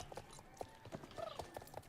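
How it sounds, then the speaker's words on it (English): Horses in the video game Star Stable clip-clop along in a quick, uneven rhythm of light hoof taps, with a faint whinny-like tone woven in, all soft and close. "Oh, here we also have some horses."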